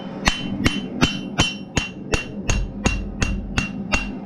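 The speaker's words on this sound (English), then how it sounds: "Maybe hammer texture it, make it a little wider" About a dozen evenly spaced hammer blows ring out as hot metal is textured and shaped, each a sharp, close metallic strike with a brief ring, in a steady rhythm with no talk.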